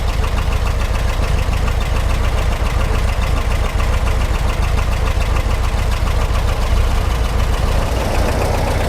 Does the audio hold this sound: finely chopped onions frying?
no